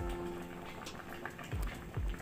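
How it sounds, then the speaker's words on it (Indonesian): Goat meat steak simmers in a pot over a stove flame, giving a faint, steady bubbling with soft pops scattered through it. "Oke, biarkan mendidih seperti ini."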